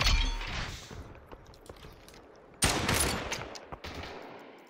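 Gunfire in the video game Population: ONE: scattered sharp shots and cracks, a loud burst near the start and another in the middle, with quieter pops between.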